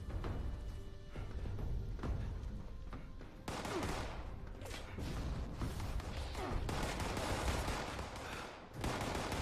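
Enemy gunfire in the video game Fallout 76, dense overlapping shots and bursts running through the whole stretch at a steady loud level, with thumps and scattered impacts mixed in.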